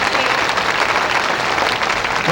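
Dense, continuous clapping-like splashing and slapping fills the space, loud and close, as two show dolphins, Nemo and Neptune, applaud themselves.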